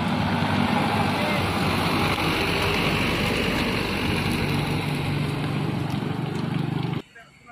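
A loaded Mitsubishi Fuso Canter Euro 4 truck rated at 125 PS labours along with a loud, continuous diesel engine drone and road rumble, then cuts off abruptly near the end; someone talks over it.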